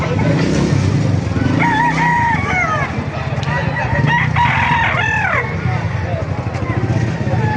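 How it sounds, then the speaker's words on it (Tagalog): Several roosters crow one after another close by in Baliuag, Bulacan, their calls overlapping amid busy background noise and people talking. "tumagsa ang manok dito sa Baliwag yan"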